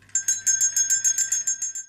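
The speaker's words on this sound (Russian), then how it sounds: "а это колокольчик. Он говорит о начале представления" A small bell rings in a quick, steady series of bright, clear tinkling strikes, close and alone, signalling the start of a children's baby theatre performance.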